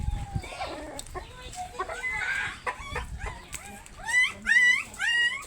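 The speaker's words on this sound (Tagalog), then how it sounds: "Ito nga pala yung alaga namin aso pa." A dog whimpers and yelps amid clucking chickens in rural Dait, Camarines Norte, Philippines, with repeated rising squeals growing louder toward the end, close by.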